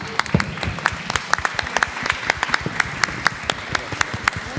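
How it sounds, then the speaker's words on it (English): A panel-discussion audience applauds steadily, many hands clapping in a dense, even patter throughout, fairly loud and close. "Could you stand up so we can give you a round of applause?"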